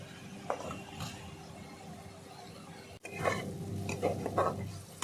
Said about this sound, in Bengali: ভালো করে এবার কষিয়ে নেব মশলা যত কষবো ততই ভালো হবে